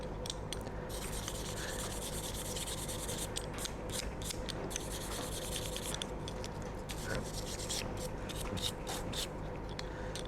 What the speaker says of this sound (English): if I get my little brass brush, because the zinc's soft, it shines pretty easy.